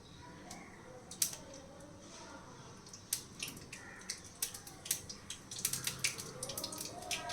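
Mustard seeds splutter in hot ghee in a pan, making scattered sharp crackles and pops that grow more frequent over a soft, steady background hiss.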